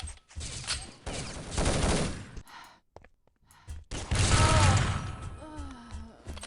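Bursts of gunfire in a shooter video game's urban zone match, shots fired through grass in quick clustered volleys, loud and close with mechanical clicks, a short quiet gap, then another heavy burst.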